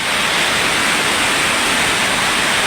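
Very heavy rain pours down with floodwater rushing and draining along the ground, a dense, unbroken loud hiss and roar with no gaps throughout.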